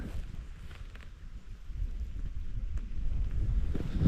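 Wind gusting at a rainy wilderness campsite, a low, rumbling buffet against the microphone that builds steadily and swells loudest at the end, with no voices.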